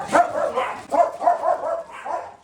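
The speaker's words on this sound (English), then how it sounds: "And the dogs go crazy." Dogs bark excitedly at workers doing survey marking for power lines in a yard, a rapid series of sharp, loud barks with short gaps, close by and overlapping.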